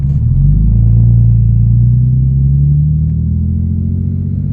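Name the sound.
car driving on road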